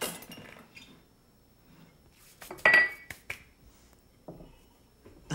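Carrot cake batter being mixed in a bowl, heard as sparse sharp clinks and taps of a utensil against the bowl, with a louder cluster of knocks midway and quiet stretches between.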